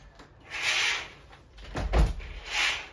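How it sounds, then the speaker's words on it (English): An interior door swings shut near a room with children audible outside, giving a few soft thuds and a brief rustle of movement, close and moderate in level, with no talk. "So I'm just going to close the door."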